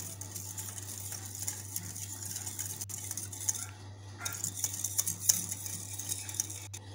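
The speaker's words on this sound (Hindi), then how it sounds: "फिर हम इसको अच्छी तरह से मिक्स कर लेंगे ताकि सब चीज़ें आपस में यकजान हो जाए और शुगर इसमें हल हो जाए।" A spoon stirs cake batter of oil, milk and sugar in a bowl, giving soft, irregular scraping and clinking against the bowl, faint and close over a steady low hum.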